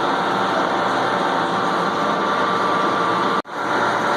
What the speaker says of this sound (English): hobbing machine. Hobbing a pretty good sized gear. Very quiet.